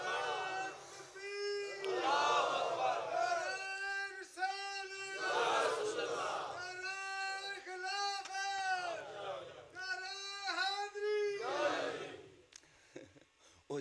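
A large crowd at a religious gathering chants slogans in repeated swelling call-and-response waves, several loud massed shouts rising and falling in rhythm across the stretch, with a leader's voice between them.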